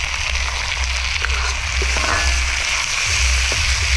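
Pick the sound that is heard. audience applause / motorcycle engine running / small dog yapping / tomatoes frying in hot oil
tomatoes frying in hot oil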